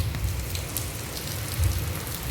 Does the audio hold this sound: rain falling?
yes